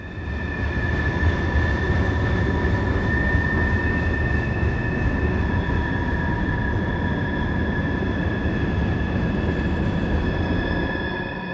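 A CSX freight train on Route 93 rolls past in the Blue Ridge Mountains, a loud, steady rumble with sustained high wheel squeal that holds for about eleven seconds before easing slightly at the end.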